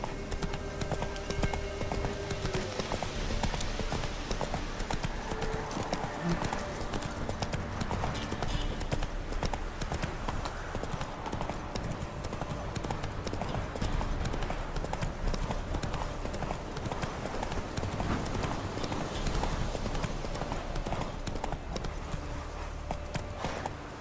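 Roach the horse's hooves clip-clop steadily across ground in The Witcher 3: Wild Hunt, a continuous trotting rhythm with game ambience and music underneath.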